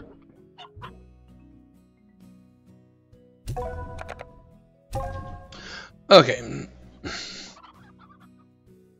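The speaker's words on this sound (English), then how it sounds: "Let's check on our chickens real quick." Chickens cluck in a few short bursts within the Slime Rancher video game, separated by quiet stretches, with a voice briefly speaking alongside.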